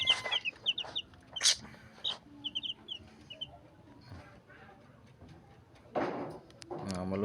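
Ten-day-old chicks peep in quick, high, bright bursts close by, with scattered shuffling noises and someone talking over them.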